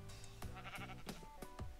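Sheep in modded Minecraft, several short bleats in quick succession over a busy game background, near and moderately loud.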